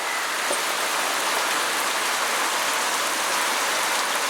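Pouring rain hisses in a loud, dense, unbroken wash with no gaps or other sounds over it.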